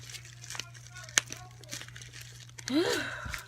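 Crinkly plastic rustling of an acrylic nail kit's packaging and a short tearing rip near the end as it is torn open by hand, with some faint background talk and a low steady hum.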